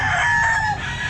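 A rooster at a pet market crows loudly and close by, one long drawn-out call that holds steady and then tails off, over a constant background of crowd noise.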